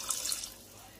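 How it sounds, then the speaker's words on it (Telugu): Water poured from a household pot into chicken curry in a home kitchen, a steady splashing pour that is strongest at first and then settles into a softer trickle, with no talk. "ఈ విధంగా 1 చెంబుడు నీళ్ళు పోసుకోవాలి."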